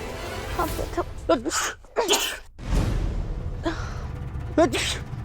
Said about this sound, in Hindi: मुझे छींक आ गई थी